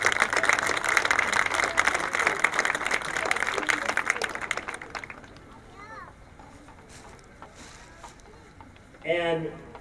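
Applause for parent volunteers at a school spring string concert, a loud crowd clapping for about five seconds before dying away into quieter room noise and faint voices, with a short burst of sound near the end.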